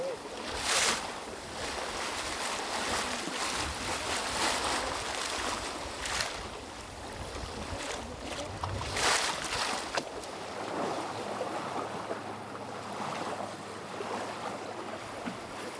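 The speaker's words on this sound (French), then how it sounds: "juste la mer, le vent, et le retour d'un voilier sur l'eau" Sea waves and steady wind on open water as a sailboat returns, a continuous broadband wash with a few louder gusts or surges, no voices.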